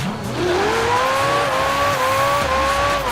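A Porsche roars through a driving video game, its engine note climbing steadily in pitch as it accelerates, loud and continuous with faint tire noise underneath.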